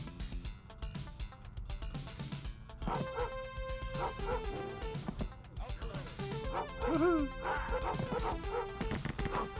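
A dog barks and yips repeatedly in dog mode of the Rise of the Triad video game, mixed with game music and sound effects.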